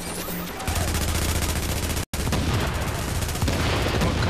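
Explosive bullets fire in rapid bursts in The Division video game, a loud, dense rattle of close shots that breaks off for an instant and then resumes hammering.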